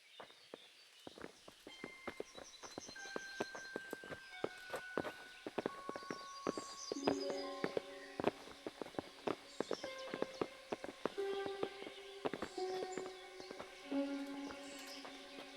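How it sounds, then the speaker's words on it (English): Horses walking in the medieval role-playing game Kingdom Come Deliverance, with steady hoof clip-clops repeating throughout, mixed with layered game sounds and musical tones. "Bring the horses."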